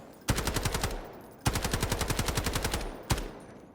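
Automatic fire from an assault rifle fitted with a 60-round drum in the video game Delta Force: two long rapid bursts with sharp repeated cracks, then a single loud shot, close and alone.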